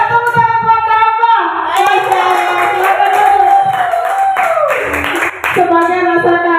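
Students in an open-class lesson clap in rhythm while loud young voices chant or sing along, the claps mixing with the voices throughout.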